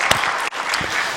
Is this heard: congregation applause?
yes